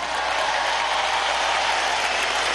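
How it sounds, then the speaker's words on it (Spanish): Sustained applause from a large audience at a political event with education-sector workers, a dense, even wash of clapping that stays loud and steady throughout with no voices on top. "le brindemos un caluroso aplauso a nuestra generación dorada, a nuestra Vinotinto"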